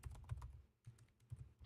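Soft, fast keystrokes on a computer keyboard, a quiet irregular clatter in two bursts split by a short pause, faint and close with no talking.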